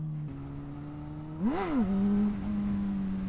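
Motorcycle engine revving up in second gear during a wheelie attempt, a steady idle-like drone that climbs sharply in pitch for a brief surge then settles back to a higher hum, heard close.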